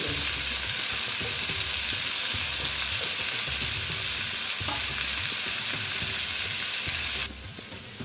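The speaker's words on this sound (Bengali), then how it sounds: "এটাকে আমি ভেজে নেব" Chayote squash and potato sizzle and crackle steadily in a hot pan with occasional stirring, loud and close, before the sizzle softens at the end.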